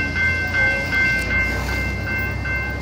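A train rolls past at a railroad crossing, a steady loud rumble with rhythmic wheel clatter repeating about every half second and a faint high tone riding over it, no voices.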